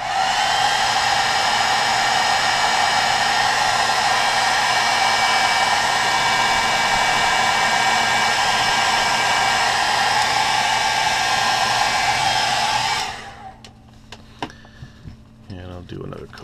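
A heat tool blows steadily and loudly while heat-setting paint on a baby bass crankbait, a constant airy roar that cuts off near the end, followed by light clicks and handling noises.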